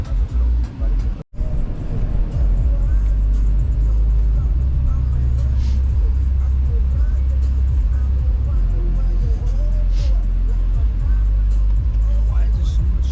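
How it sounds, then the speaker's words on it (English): Steady road traffic rumbles close by, a continuous wash of cars and buses passing with occasional engine revs, loud and unbroken apart from a brief dropout near the start. "Why is there so much traffic?"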